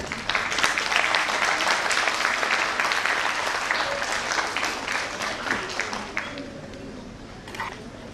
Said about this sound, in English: A big round of applause for Dr. Ghosh.